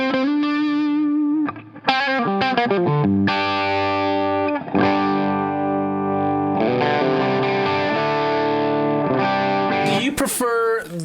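Gibson Les Paul R9 electric guitar played through a Mythos pedalboard with the gain turned up, distorted chords and single notes ringing out with sustain and chorus-like shimmer, loud and close.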